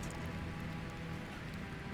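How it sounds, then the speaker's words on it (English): Rain falls steadily in Surviving the Aftermath, a post-apocalyptic colony builder, as an even, dense patter of drops on surfaces with no break or change in intensity and no voices over it. "It's raining again."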